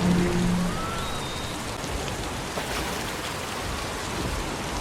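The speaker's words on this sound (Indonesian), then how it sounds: "Namun karena hujan deras, Wayne tidak mendengarnya" Steady heavy rain pours down in a dense, continuous hiss, close and loud throughout, with no voices.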